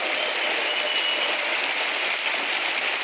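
Steady, loud applause from a live audience at a talk event honoring a professor, an even wash of clapping throughout with no voices.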